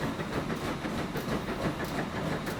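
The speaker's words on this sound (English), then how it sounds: "Train 109 is moving into closer to position" A train in the video game Transport Fever 2 rolls along the rails on a UK mainline, a steady close rumble with rhythmic clattering of wheels and a breathy hiss.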